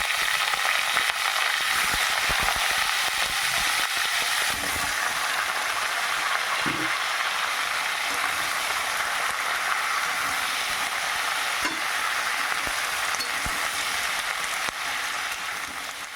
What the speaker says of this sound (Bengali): বন্ধুরা লাল লাল ভাজা হয়ে গেছে